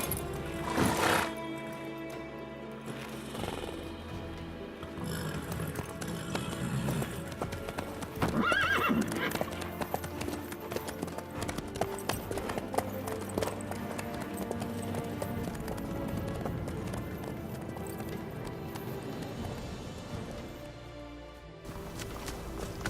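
A horse ridden in The Witcher 3 video game, with steady rhythmic clip-clopping hooves throughout, loud and close, broken by a couple of whinnies over background music.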